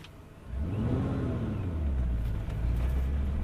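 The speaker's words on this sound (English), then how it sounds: "Once you're about at the bite point, start giving it a little bit of gas, and then slow on the second half of the clutch release." Ford GT with a manual gearbox pulling away from a standstill: a quiet idle, then the engine swells into a deep, steady rumble as the clutch engages and the car moves off, with revs climbing smoothly.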